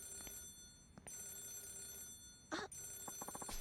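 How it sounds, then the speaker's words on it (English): A telephone rings in the game Yakuza 0, short electronic bell bursts repeating a few times at moderate level over quiet background game sound. "could you get the phone?"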